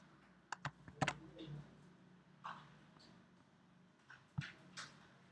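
Sparse keystrokes on a computer keyboard while entering code for a Flutter e-commerce app, a few isolated clicks and short bursts with quiet pauses between, close and fairly soft.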